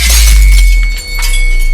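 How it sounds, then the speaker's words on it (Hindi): Window glass shattering and breaking apart in a horror story sound effect, a loud crash with bright scattering shards that fades out over under two seconds, with no voices. "मेरे कमरे की खिड़की ज़ोर से बंद हुई और टूट गई"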